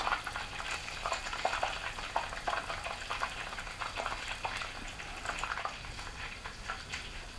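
Whiting fillets in tempura batter fry in hot oil with a steady, dense sizzle and crackle, loud and close, continuous throughout without any talking.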